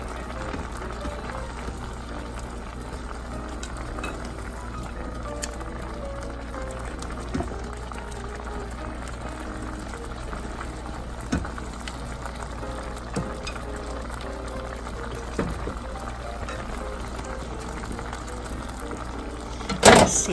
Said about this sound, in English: we're just going to cook down the rest of the sauce